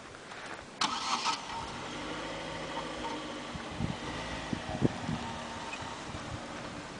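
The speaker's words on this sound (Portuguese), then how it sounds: "liga o carro." A car engine cranks and catches, then settles into a steady idle with a few knocks and clunks, close and fairly quiet, on a hillside road at São Thomé das Letras.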